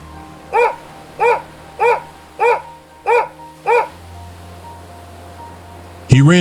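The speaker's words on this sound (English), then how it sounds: "He wagged his tail and barked happily." Six quick, high-pitched barks from a small dog come at a regular pace, followed by a quieter stretch and a sudden louder burst at the end.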